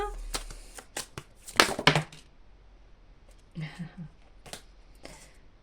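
Tarot cards shuffled and drawn for a reading: quick crisp riffles and flicks of a deck close by, in short bursts with a brief flutter of shuffling, then quieter card slaps, with a voice briefly in the background.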